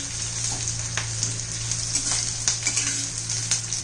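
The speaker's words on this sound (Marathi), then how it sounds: "हे सगळं मी व्यवस्थित परतून घेते" Onions sautéing in a pan for veg Schezwan fried rice: a steady close sizzle with scattered crackles and a few scraping stirs, with a low hum underneath and no talk.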